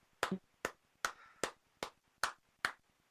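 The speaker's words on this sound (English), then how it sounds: "Give you a few claps here." Seven sharp hand claps at a steady, slightly uneven pace, close and fairly quiet, with no talking.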